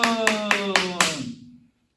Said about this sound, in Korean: 저 혼자 박수 치고 있는 것 같죠?